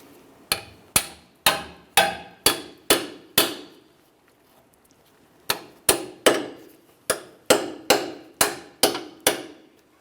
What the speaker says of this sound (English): You may have to tap on that with a hammer.